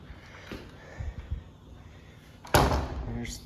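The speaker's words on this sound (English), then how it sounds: "Nice little screen door." A screen door at a house in midtown Santa Fe bangs shut with a sharp slam and a rattle, following softer thumps and footsteps, moderately close.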